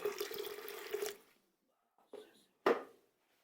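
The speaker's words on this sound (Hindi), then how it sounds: "थोड़ा सा पानी और डाल देंगे, बिल्कुल हल्का" Water pours from a container onto mixed sprouted grains, a splashing stream for about a second, followed by two short separate pours, faint and close.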